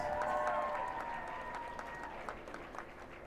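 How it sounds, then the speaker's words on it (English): Wedding guests applaud the newlyweds Ketan and Vanessa Patel as they walk out, a dense wash of clapping from a crowd that gradually thins and softens, with scattered cheers and voices. "a round of applause for your newlyweds"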